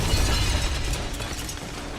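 A glass door shatters as a body is hurled through it onto a balcony, a dense, loud crash of breaking glass and debris that fills the whole moment with no voices.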